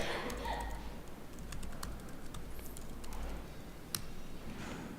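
Code being typed on a computer keyboard, faint rapid key clicks in uneven runs over a low steady hum, no voice.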